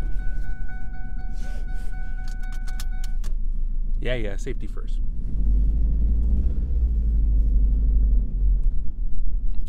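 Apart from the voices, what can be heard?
Ford Focus ZX3 engine running rough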